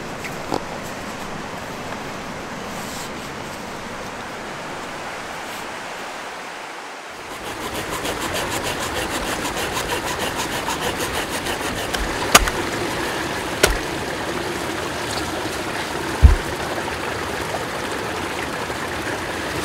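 Mountain waterfall feeding a stream, with a steady broadband rush of flowing water that swells louder partway through and carries a few faint knocks, heard alone with no voices.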